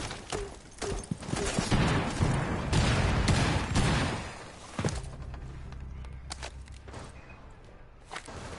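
Rapid bursts of gunfire in a tactical shooter game styled like Rainbow Six Siege, loud volleys of shots in the first half, followed by scattered single cracks and footsteps at lower volume.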